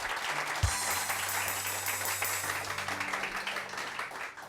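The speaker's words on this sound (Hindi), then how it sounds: "इमरान खान के लिए बहुत सारी तालियां" A studio audience at a Pakistani morning television show applauds steadily, a dense wash of clapping lasting the whole stretch with a low musical tone running beneath it.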